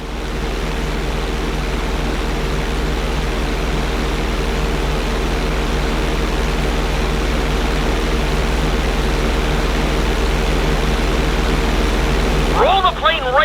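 A plane's engine drones steadily while flying upside down in GTA 5, a constant loud hum with a short burst of other sound at the very end.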